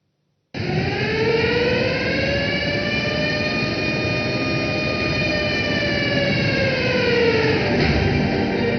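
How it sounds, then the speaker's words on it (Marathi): A siren blares at Jaikwadi dam before the gates open: one loud, sustained wailing tone with a slight rise and fall that starts after a brief silence and carries on unbroken. "सायरन वाजला आणि जायकवाडी धरणाचे सर्वच्या सर्व म्हणजे सत्तावीस दरवाजे उघडण्यात आले"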